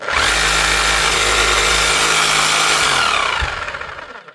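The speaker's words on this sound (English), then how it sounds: "One old Bosch hammer up and running again." A repaired Bosch GBH 5-40 DCE rotary hammer runs steadily and loudly for about three seconds with a rough, buzzing motor drone, then is switched off and winds down to silence.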